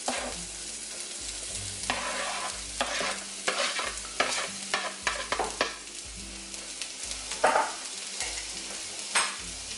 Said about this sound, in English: I just have enough oil to cover the pan, and then I have some like thickly sliced onion